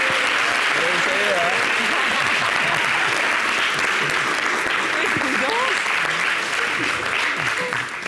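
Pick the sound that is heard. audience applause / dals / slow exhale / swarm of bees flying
audience applause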